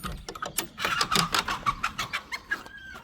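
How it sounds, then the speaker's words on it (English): A hen in a backyard coop clucks in a rapid, uneven series of short calls, fairly close and moderately loud, ending with a drawn-out note on a hot summer morning. "that chicken, she wants to lay eggs."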